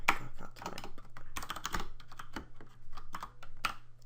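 Fingers clatter across a computer keyboard in fast, uneven bursts of clicky keystrokes, close and alone without speech.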